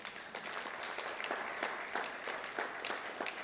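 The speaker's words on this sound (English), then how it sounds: "Give yourselves a round of applause." Audience applause at a fall college convocation, a steady wash of clapping from a seated crowd that fills the whole stretch at moderate level with no talk over it.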